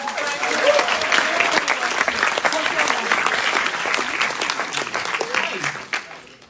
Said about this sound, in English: Thanks, round of applause for Dave.